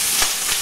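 Shrimp fry in a hot pan with a short burst of loud, bright, crackling sizzle and no voices.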